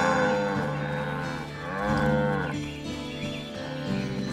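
Cattle in the video game Black Desert moo in long, loud, drawn-out calls, several overlapping lowing sounds rising and falling one after another over a steady game background, with no talking.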